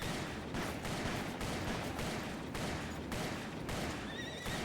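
Horse shot in the western game Call of Juarez gives a loud, close neigh over a dense wash of gunfire lasting the whole few seconds.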